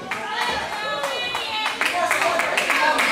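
A wrestling show crowd cheers and claps at a live independent event, scattered hand claps and shouts rising over a steady murmur of voices, growing louder toward the end.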